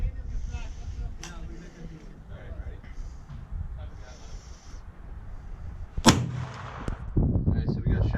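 A single sharp shot from a CVA Accura V2 muzzleloader rifle firing a Federal load rings out loud and close midway, with people talking quietly before and after it.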